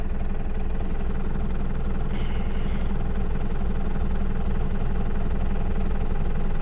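A vehicle towing a twin trailer rumbles up with a continuous, loud, low engine drone and steady vibration, close by throughout with no breaks.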